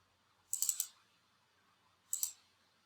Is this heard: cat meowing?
no